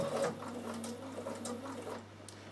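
A Bernina sewing machine stitches a bar tack across the bottom of a buttonhole, giving a quiet, rapid mechanical whirring with a faint hum, steady for about two seconds before easing off.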